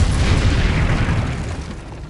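A fire spell blast in the Hogwarts Legacy video game, heard as a loud, dense low roaring whoosh that holds for about two seconds and then slowly fades, with no talking.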